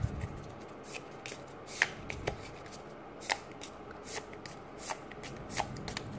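Pokemon trading cards are shuffled by hand, close and crisp, with a run of sharp riffling bursts and slaps at uneven intervals over soft card rustling.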